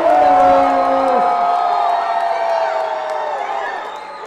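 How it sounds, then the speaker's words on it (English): Fight fans at a boxing match in Spartanburg, SC cheering and whooping loudly, a sustained crowd roar with shrill voices that slowly fades toward the end. "Cheer your fighters on. Let's go. Make some noise."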